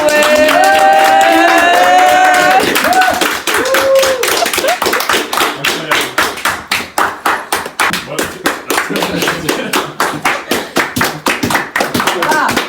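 A film crew applauds together at the end of a shoot, a steady run of close, loud hand claps after a brief stretch of voices and chatter.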